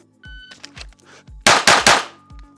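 Glock pistol fitted with an aftermarket trigger fires two loud, sharp gunshots close together near the middle, after several softer metallic clicks and handling clunks.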